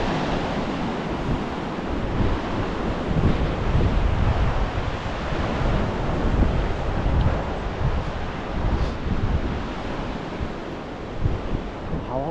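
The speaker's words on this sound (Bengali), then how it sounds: "হাওয়াও চলছে, ঠান্ডা হাওয়া।" Cold wind roars and gusts steadily across an open mountain trekking route in Nepal, buffeting the microphone in a dense, continuous rush with no clear pauses.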